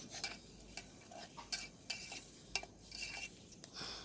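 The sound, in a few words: stirring and frying chicken masala, chili, turmeric for khichuri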